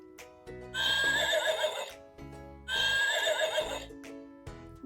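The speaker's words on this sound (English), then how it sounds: "This is a horse." A horse gives two loud, close whinnies in succession, each a long, shrill neigh rising then fading, with a short pause between them.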